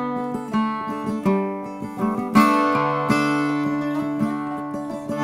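Octave mandolin and tenor guitar in open C with a capo playing together, bright plucked strummed chords with a ringing drone, close and clear, with no talk.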